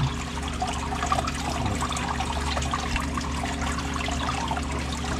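Water sloshes and trickles steadily as it is agitated back and forth in a Miller table while panning beach sand for gold, close up, with a low constant hum underneath.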